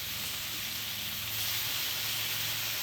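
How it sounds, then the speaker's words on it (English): Bacon sizzling on a hot Camp Chef griddle, a steady crackling hiss of fat frying, close and continuous with no talking. "just listen to that sizzle"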